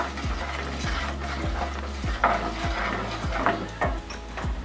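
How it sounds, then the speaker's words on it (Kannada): Urad dal seasoning fries gently in oil over a low flame for potato saagu. A quiet sizzle runs under regular, rhythmic scrapes and taps of a spoon stirring in the pan. "ಸ್ವಲ್ಪ ಎಲ್ಲನೂ ಫ್ರೈ ಮಾಡ್ಕೊಳ್ಳೋಣ ಸ್ಟವ್ ಸಣ್ಣ ಇಟ್ಕೊಂಡೆ ಫ್ರೈ ಮಾಡ್ಕೊಳ್ಳೋಣ"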